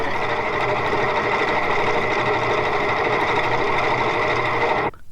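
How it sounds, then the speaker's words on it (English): A commercial-quality open gear set runs steadily at 750 RPM, giving a loud, continuous mechanical whine with a dense, rattling hum that holds level for about five seconds, then cuts off abruptly near the end. "listen to the effect of speed on the sound of an open gear set of commercial quality running at 750 RPM."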